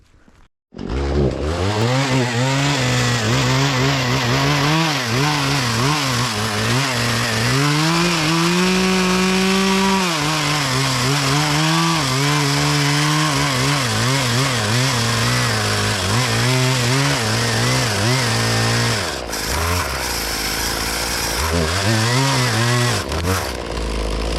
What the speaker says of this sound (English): Now it wants to go right into that other tree. Now I pinched the saw.